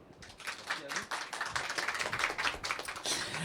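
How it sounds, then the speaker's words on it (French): A small audience at a talk claps, a dense patter of hands close and fairly quiet, with a voice speaking over the applause. "Merci, on peut les applaudir"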